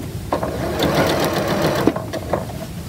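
Sewing machine stitching a quilt seam, a fast continuous mechanical whir close by that runs throughout with slight rhythmic clatter.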